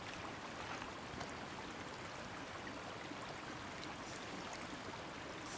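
Water at a swimming spot at night, a steady soft wash and trickle of moving water with no voices.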